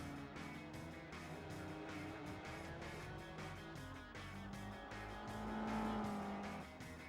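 A Lotus race car roars past a Cerberus in Gran Turismo 4, with layered engine whines and a rising, then falling tone as the car closes in and passes, with a brief tire squeal in the mix.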